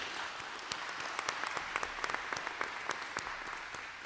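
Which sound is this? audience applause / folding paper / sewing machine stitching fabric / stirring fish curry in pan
audience applause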